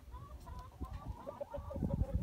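Chickens cluck and murmur nearby in short, repeated calls, a few birds overlapping over a soft low rumble.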